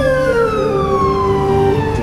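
Wailing emergency siren of an ambulance in Chikkaballapur, a loud, close, steady tone sliding downward with strong harmonics, over constant road rumble and no talk.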